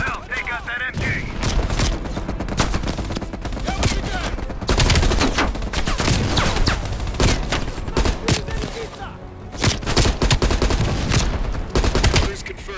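In Call of Duty: Black Ops Cold War, a machine gun fires sustained, rapid bursts, with dense rattling volleys that break off briefly and resume. Voices talk underneath.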